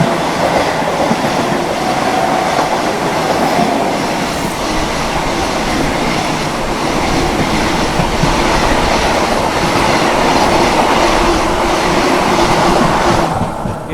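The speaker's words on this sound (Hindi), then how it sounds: "Anand Vihar terminal Ayodhya cantt Vande Bharat express. Train अपनी आ चुकी है 110 की रफ्तार में" The Anand Vihar Terminal to Ayodhya Cantt Vande Bharat Express rushes past at about 110 km/h, a loud, steady roar of rolling wheels and rail clatter with no pause.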